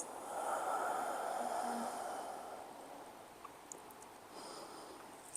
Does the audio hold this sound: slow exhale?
yes